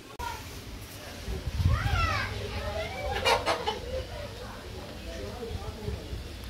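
A rooster being hand-fed wheat gives a few short clucking calls, mostly in the first few seconds, over a steady outdoor background while a person talks nearby.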